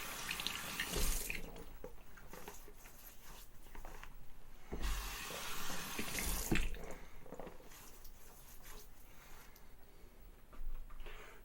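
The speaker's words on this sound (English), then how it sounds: "Let's wet the face and start lathering." Tap water runs steadily into a sink while a man with about three days of stubble wets his face before lathering for a shave, with splashing surges as hands scoop water, no talking.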